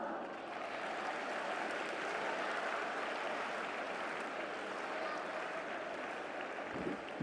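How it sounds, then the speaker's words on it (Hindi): Faint, distant audience applause at a 15 August Independence Day event in Delhi, a continuous soft hiss of many hands clapping at an even level throughout. "तालियों के साथ।"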